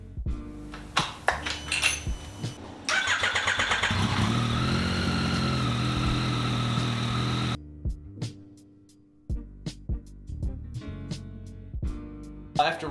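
A Yamaha XSR900 motorcycle engine cranks, fires and settles into a loud, steady idle for several seconds before shutting off, with clicks and handling noises before and after, heard close up during a coolant change.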